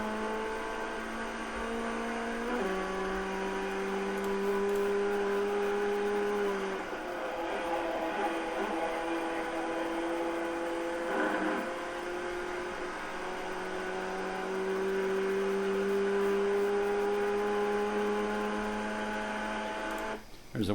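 An FF1600 race car engine sounds at sustained full throttle around Summit Point, a steady droning whine that holds pitch, steps down briefly at a shift and climbs again, loud and close throughout.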